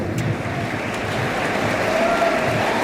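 Applause from the audience at a college graduation day ceremony, a dense, steady wash of clapping that sounds broad and somewhat distant and continues without pause.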